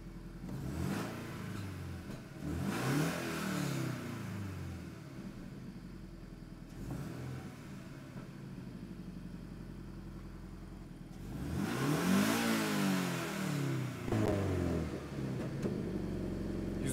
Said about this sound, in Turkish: Boxer motorun avantajlarından biri titreşimsiz çalışması.